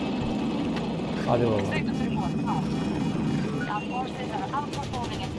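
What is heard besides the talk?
attack helicopter in video game Battlefield 2042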